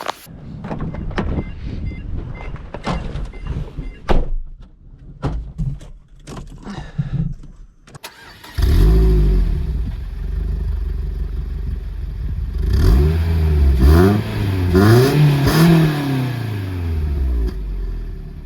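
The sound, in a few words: Peugeot 206 S16 car engine starting and revving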